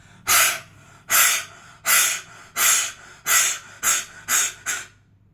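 A person forcefully pushes air out through the throat, imitating a panting dog during a throat exercise, in eight loud, breathy huffs at a steady rhythm that speed up slightly toward the end.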